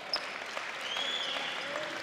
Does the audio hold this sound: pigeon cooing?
no